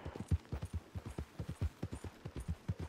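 Horse hooves gallop at speed in Red Dead Redemption 2, a steady rapid clip-clop rhythm of repeated hoofbeats, close and fairly loud, with no talking over it.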